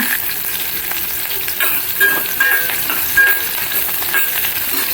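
Green chillies fry in oil on a low flame for a prawn curry, a dense, steady crackling sizzle with occasional faint stirring touches, close and loud.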